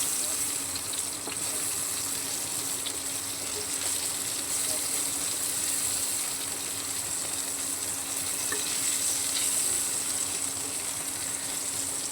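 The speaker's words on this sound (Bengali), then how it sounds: "পটলটাকে ভালো করে উল্টে পাল্টে আরও ভেজে নেবো।" Steady, close sizzling of food frying in a pan, an even crackling hiss that continues without pause.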